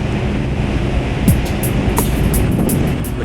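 Wind and waves wash steadily around a cruise ship heading up the broad River Plate estuary. The rumble is continuous, with a few faint clicks and taps near the end and no speech.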